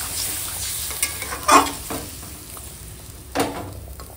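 Meat for butter chicken fries in a pan as water is poured over the spot where it was coated, giving a loud steady sizzle with brief bursts of spoon stirring and a few louder flares.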